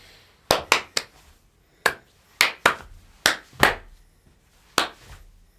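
Sharp, isolated hand claps come in small irregular bursts: a quick triple, a single, a double, then a few more spaced hits. Each one is close and crisp against near silence, and no one speaks.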